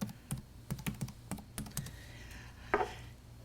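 Keys on a computer keyboard are struck in an irregular run of clicks and taps, close to the microphone in a meeting room, with a slightly louder knock near the end. No one speaks.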